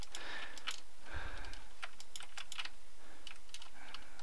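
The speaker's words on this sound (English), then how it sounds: "Sorry if you can hear my keyboard." Rapid clicking of a computer keyboard being typed on, irregular bursts of keystrokes over a low steady hum, close and moderately quiet.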